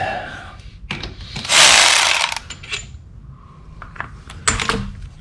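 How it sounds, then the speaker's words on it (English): Front brake caliper unbolted and pulled off a Triumph Tiger 1050 motorcycle during a fork seal job: a short burst of tool rasping and ratcheting among sharp metallic clicks and clunks, close up, with no talking. "we're going to take off the other caliper on the other side"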